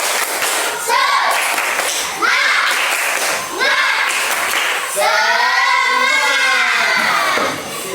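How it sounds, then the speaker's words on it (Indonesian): Children in a classroom perform a rhythmic 'tepuk semangat' clapping chant, bursts of loud group clapping in a steady pattern mixed with chanted young voices. "Tepuk semangat."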